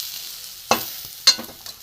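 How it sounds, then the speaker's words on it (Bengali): Fried potatoes in a pan of oil, with a faint low sizzle under two sharp clanks of a spoon stirring and scraping, plus a softer knock near the end. "বন্ধুরা, আমার আলুগুলো ভাজা হয়ে গেছে।"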